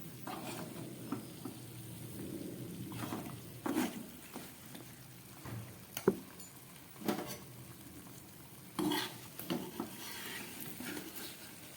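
Khaja pastries frying in oil give a quiet, soft sizzle broken by scattered clinks and scrapes of a utensil lifting them out, with several sharper taps spaced through the stretch.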